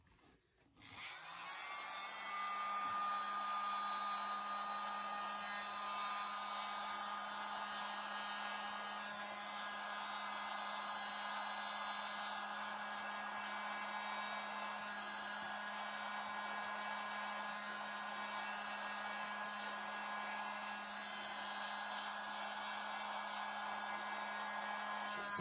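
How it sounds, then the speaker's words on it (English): A steady, loud whooshing roar of a small leaf blower used on acrylic paint starts abruptly and runs without a break, with a low motor hum underneath. "the smallest leaf blower and blow up on the top and see what happens"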